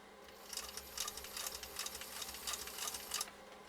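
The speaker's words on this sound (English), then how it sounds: "Listen to Emily's machine run." A PFAFF 360 sewing machine runs steadily up close, a fast even whirring stitch rhythm with slight surges in speed, then stops near the end.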